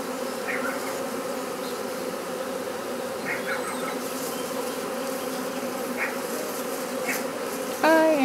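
Swarm of honeybees buzzing outdoors, a dense continuous drone of many wings with individual bees passing close by, steady throughout, with a brief louder rustle near the end.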